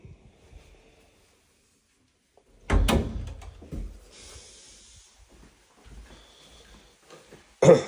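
A closet door in a home bedroom bumps and slides open, with a loud knock near 2.8 seconds, scattered rattles and rustling, then another sharp thud at the end as it closes; no one speaks.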